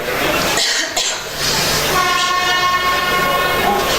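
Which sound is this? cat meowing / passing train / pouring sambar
passing train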